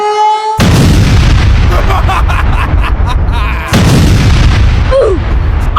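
A bomb explodes in a Bangladeshi comedy drama scene: a sudden, very loud, full-bodied blast rolls on, and a second heavy burst follows a few seconds later.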